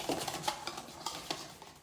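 A whisk or utensil beats okonomiyaki batter in a bowl, giving a series of quick close clinks and scrapes against the bowl's side with a steady, uneven rhythm and no talking.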